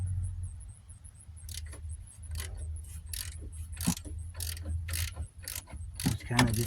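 A ratchet run in bursts of rapid clicking, driving bolts down on the rear hub of a 2006 Dodge Grand Caravan, close and fairly quiet over a low steady hum.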